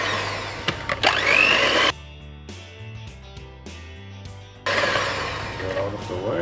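A loud blender whirs in bursts at the start and end while making banana bread, with a quieter stretch in between where music and voices come through.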